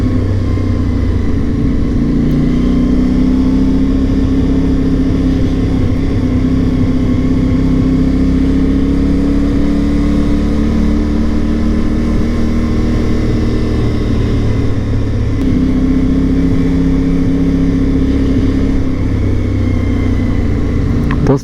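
Ride on a motorcycle through Monaco, the engine holding a loud, steady drone with small pitch swells over continuous wind and road rumble, no voices.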